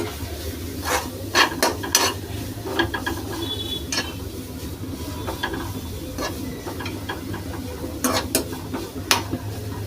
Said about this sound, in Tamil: கேரட் நல்லா ரோஸ்ட் ஆகட்டும்